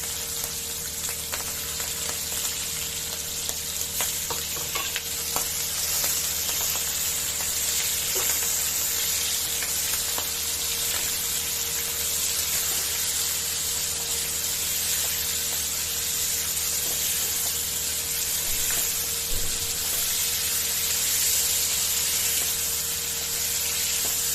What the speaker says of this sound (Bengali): আমি আগে থাকতে চিংড়ি মাছগুলো লবণ হলুদ মাখিয়ে রেখে দিয়েছিলাম এগুলোকে এবার ফ্রাই করে নেবো